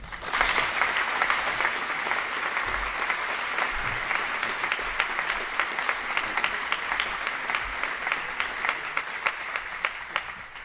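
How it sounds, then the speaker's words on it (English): An audience in a church gives sustained, steady applause for a pastor, dense crowd clapping filling the room evenly without talk. "Please give him the applause that he very much deserves."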